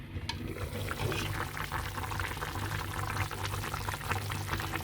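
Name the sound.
stuffed dolma boiling in pot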